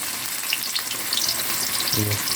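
Tofu (tokwa) frying in oil, a dense, loud, continuous sizzle and spatter close by, with a brief low hum near the end.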